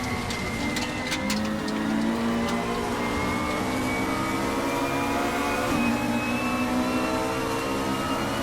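A 90s Supertouring race car screams at high speed around Bathurst, its engine a steady, loud, sustained whine that climbs gradually in pitch while running alone, with no talk.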